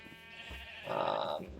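In Minecraft, a sheep gives one short, quavering bleat, faint and alone with no voices over it.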